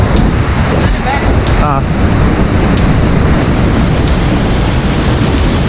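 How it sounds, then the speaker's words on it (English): A dense, loud roar of rushing water from Bridalveil Fall in Yosemite National Park fills the air without pause, mixed with wind buffeting the microphone and a brief voice. "The sound of the waterfall"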